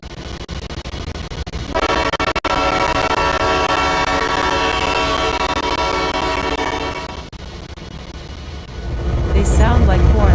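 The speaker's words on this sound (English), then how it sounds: "They sound like horns from the mountains." A train horn sounds from the mountains, a long sustained multi-tone blast with rich layered harmonics that holds steady for several seconds before fading, followed by a rumbling swell of low noise.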